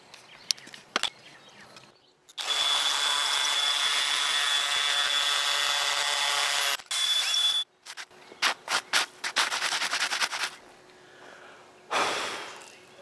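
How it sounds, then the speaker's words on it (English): Half-inch bit in a power drill boring an anchor-bolt hole into the top of a dry-poured concrete pier: a loud sustained grinding run of about four seconds, then a string of short bursts and a final brief spurt. "that's going to be drilling an anchor bolt at the top"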